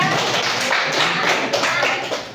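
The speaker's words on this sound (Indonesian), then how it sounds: "tepuk tangan semuanya" Students in a classroom practice-teaching session give a short round of group clapping, a few seconds of close, fairly loud and uneven handclaps with no one talking.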